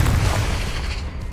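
A Confringo fire spell in the game Hogwarts Legacy lands as a single loud, booming blast that rumbles and fades quickly.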